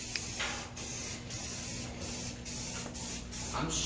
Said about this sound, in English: every single thing you can possibly see is what you want to spray